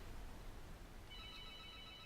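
A telephone rings during a tank battle game session, a faint electronic bell tone entering partway through over steady low background rumble, with no talk.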